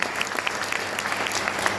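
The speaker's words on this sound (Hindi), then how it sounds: "इसीलिए जोरदार वाली ताली जब भी मौका मिले अपना ऐसा" Loud audience applause at a motivational talk, a steady wash of many hands clapping with a few sharper individual claps standing out.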